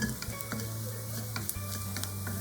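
Ghee frying in a pan as something roasts, a steady close sizzle with periodic scraping stir strokes and a low hum underneath, no voices.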